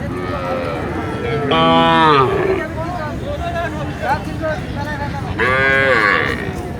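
Agar cattle at Ambari cattle market in Dinajpur give two loud, drawn-out moos, one near the start and one near the end, over a steady hubbub of crowd chatter and people talking.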